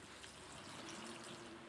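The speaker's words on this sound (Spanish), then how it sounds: "Estoy regando de noche," Carnivorous plant trays are watered at night from a small jug, giving a faint, steady trickle of pouring water throughout.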